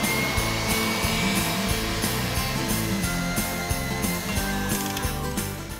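Electric stand mixer whisking meringue for Christmas pudding macarons at high speed, a steady loud mechanical whir with a rapid rattling rhythm of the whisk running continuously throughout, with no talking.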